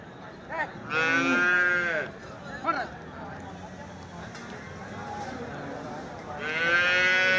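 Cattle moo loudly at Karungalpalayam livestock market in Erode district, with long drawn-out lows near the start and end over a busy outdoor crowd murmur while someone talks close by.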